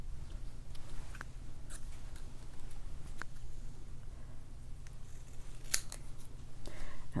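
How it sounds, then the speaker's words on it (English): Scissors cutting paper triangles by hand for a quilted card, a series of crisp, close snips at irregular intervals over a soft, steady background hum. "I am just hand cutting these"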